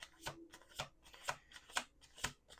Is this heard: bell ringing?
no